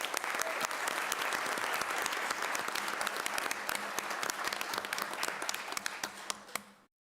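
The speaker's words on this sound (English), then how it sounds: "let's just give him another round of applause" Sustained applause from the audience at a board of education meeting honoring the principal of the year, dense steady clapping filling the room for about seven seconds before tapering off abruptly at the end.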